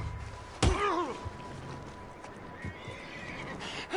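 A horse in Red Dead Redemption 2 gives a loud, quavering whinny, followed by a few scattered hoof thuds and clops at moderate distance.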